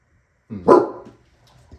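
A dog gives a single sharp bark followed by a brief trailing whimper, close and clear, during an otherwise quiet podcast recording.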